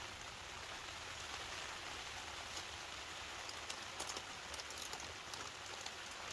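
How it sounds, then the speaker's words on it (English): Quiet, continuous patter of heavy rain drumming on a tent, with faint scattered drips standing out over the steady wash. "No, it's actually pouring the rain."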